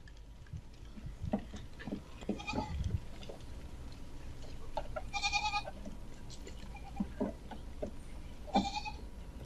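A large herd of goats, around a thousand animals, bleats from several directions, with scattered shaky calls near and far, light hoof patter and a soft low background rumble.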